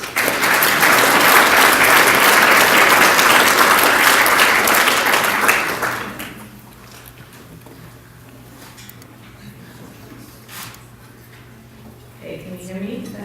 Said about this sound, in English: Just give me a warm round of applause.